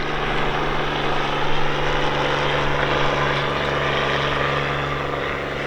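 A Bell 47 helicopter flies display manoeuvres at an airshow, its engine and rotor making a steady, loud, continuous drone with slight swells as it passes through a teardrop turn; no voices.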